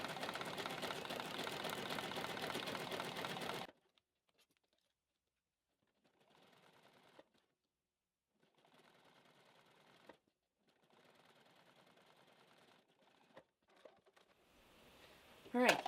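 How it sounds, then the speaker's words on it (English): A sewing machine zigzag stitching a clear vinyl zipper pouch, with back stitching at the start and end, runs loud and steady for several seconds, then returns in quieter separate bursts with pauses between them. "Zigzag, back stitching at beginning and ends again."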